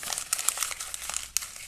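A sheet of paper is crumpled close by, giving a quick run of sharp, dry crinkles and crackles for under two seconds, alone with no talk.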